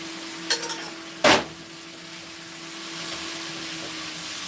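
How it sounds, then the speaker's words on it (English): Boiled spaghetti is stirred into salmon and vegetables in a pan. A few quick utensil clinks and one sharp scrape against the pan sit over a low, steady hum and faint sizzle. "So I'll be mixing this in."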